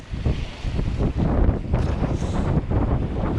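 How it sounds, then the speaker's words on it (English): Strong, cold wind buffets the microphone outdoors at a tent campsite in heavy, rumbling gusts that rise and fall without pause. "It is really windy."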